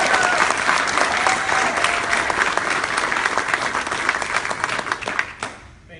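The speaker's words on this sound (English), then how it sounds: "can we just have like a big round of applause?" Loud, dense applause from an audience at a pitch session, steady for several seconds before tapering off at the end.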